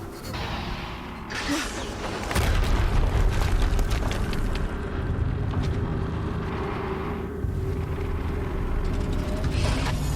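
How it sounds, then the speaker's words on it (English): An explosion in the video game Horizon Zero Dawn erupts as a heavy, sustained boom over dense mechanical game noise, loud and rumbling for several seconds. "Another explosion."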